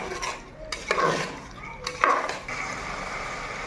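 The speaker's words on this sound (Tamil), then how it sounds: "சிக்கன் போட்டு கொஞ்சம் கிளறி விட்டுங்க" Chicken pieces are stirred in a pan for biryani, with a metal spoon scraping and clanking against the pan in a few quick strokes over a faint background sizzle.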